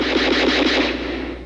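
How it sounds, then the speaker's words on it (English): Rapid automatic gunfire in Roxbury, Boston, a loud, continuous burst of shots with a harsh, echoing edge and no voices. "Gunfire rings out in Roxbury tonight."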